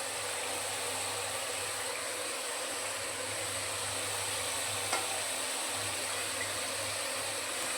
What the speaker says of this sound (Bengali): আলু আর মশলাটা ওদিকে কষুক